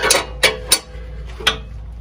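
A hand-cranked press tool is worked to force out a stubborn bushing, giving a few sharp, close metallic clicks at uneven intervals over a faint background hum.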